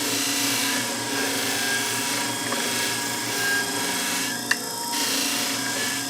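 A shear blade is honed on a Scimech Jr Flathone sharpener with a steady whirring motor hum and a continuous light grinding rasp, plus one brief click near the end.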